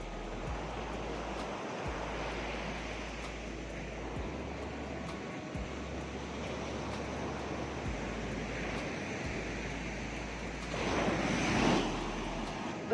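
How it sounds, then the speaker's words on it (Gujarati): Waves and wind wash steadily over a seashore near wind turbines, a continuous broad roar with a low droning hum beneath and a louder gust or breaking surge near the end. "અને આપણે અત્યારે દરિયાકાંઠે છે, પવન ચક્કી પણ છે."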